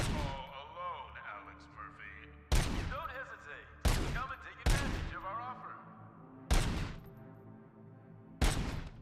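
Gunfire in the video game RoboCop: Rogue City comes as five sharp, loud shots spaced a second or two apart, each ringing off into a decaying tail, with a voice speaking between them.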